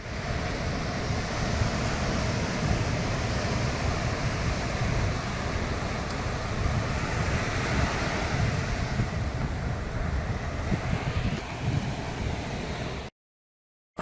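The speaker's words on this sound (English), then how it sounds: "you can hear the waves and you can enjoy the peace" Steady ocean surf rolls onto the shore at sunset as a continuous broadband wash, with wind buffeting the microphone throughout. There is no talk, and the sound stops abruptly just before the end.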